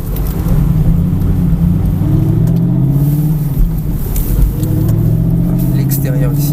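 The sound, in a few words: car accelerating on a race circuit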